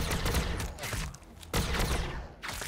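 Sustained bursts of gunfire in the Warhammer 40k Battlesector strategy game, loud and dense, two long volleys separated by a brief dip, with no speech.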